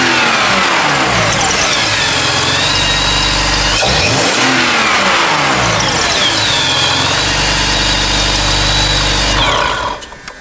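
A BMW M54 engine in a 325ti, fitted out for about 300 hp, revs up twice and settles to a steady high hold before abruptly cutting off, loud and close with no voices.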